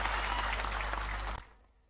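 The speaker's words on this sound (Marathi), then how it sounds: "सगळ्यांनी टाळ्या वाजून अभिनंदन केलं पाहिजे" An audience at a political gathering applauds in a dense burst of clapping over a low hum, cutting off abruptly after about a second and a half.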